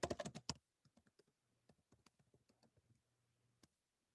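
Keys clatter on a computer keyboard while LaTeX code for trig functions is entered, a quick burst of loud strokes followed by sparser, softer individual taps and a final click.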